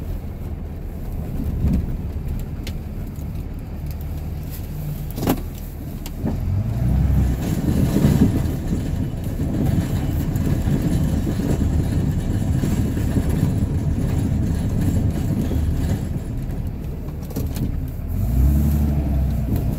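From inside the cab, a Ram 2500 pickup pushes snow with a plow, a continuous heavy engine rumble mixed with road and plow noise. Occasional thumps and knocks ride over the steady drone.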